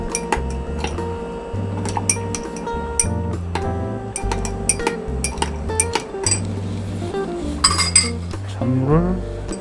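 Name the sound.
spoon clinking in a glass while stirring iced tea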